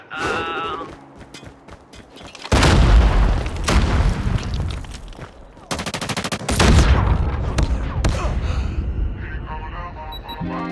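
Sniper fire and explosions in a video game, heavy booming blasts and bursts of rapid gunfire in two loud waves, with a voice briefly heard amid the din.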